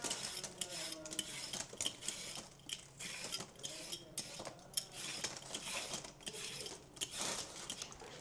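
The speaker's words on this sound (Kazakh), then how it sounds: "Құрылғымен, яғни сәбіз ашқыспен тазалаған жақсы көрем." Carrots are peeled with a vegetable peeler, giving repeated quick rasping strokes in an irregular rhythm, quiet and close, with occasional light clinks and no talking.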